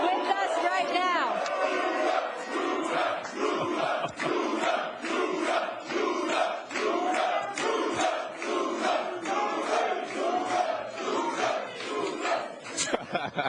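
A hyped crowd cheering and shouting in a pub, a steady wall of roaring voices with rhythmic chanting swells that carry from start to finish, loud and close.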